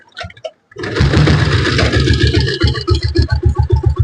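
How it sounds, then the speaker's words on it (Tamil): After a couple of short kicks, an old single-cylinder diesel Royal Enfield Bullet engine, 7.5 HP, 1985 model, fires up loud and close, then settles into a steady, heavy thumping idle. "நான் வண்டியை வந்து இப்போ நான் ஸ்டார்ட் பண்ணி காட்டுறேன்."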